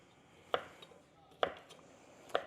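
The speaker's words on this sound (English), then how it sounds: "So this is what our andouille is. So we'll get this sliced up. I usually slice it on an angle" Andouille sausage sliced on an angle with a knife on a cutting board for black-eyed peas: three sharp, evenly spaced chops land close and crisp over a quiet room.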